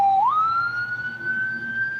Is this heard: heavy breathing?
no